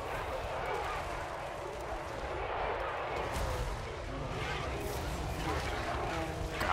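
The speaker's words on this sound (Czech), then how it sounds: "Pokračuji ve střelbě." Artillery fires during a Total War: Warhammer III battle, a dense, continuous roll of booming shots and rumble, with a voice partly audible beneath the barrage.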